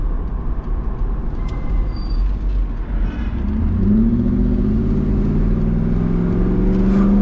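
A 1992 Mercedes-Benz 500SL V8 engine revs while driving, its note rising steadily and growing louder from a rumbling cruise, heard from inside the car without talk.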